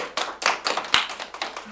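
Applause from an audience at a Korean art song recital as guests are introduced, a burst of hand claps with one sharp, prominent clap near the middle.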